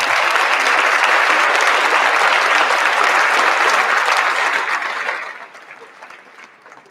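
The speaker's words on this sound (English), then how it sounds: "Can we give another round of applause to all those recipients?" An audience at a Ramstein High School senior awards ceremony applauds recipients, loud sustained clapping that fades out toward the end.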